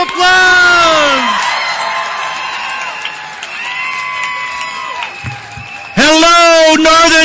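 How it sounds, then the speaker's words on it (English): A large crowd at an outdoor rally at the State Capitol in Sacramento cheers and applauds, a broad roar with whoops and shouts, while someone speaks loudly over it at the start and end. "Big round of applause."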